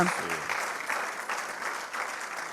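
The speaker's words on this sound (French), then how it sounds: "Ah ben applaudissez, voilà." Moderately quiet applause from an audience at a film masterclass, a steady patter of hands after a brief voice at the start.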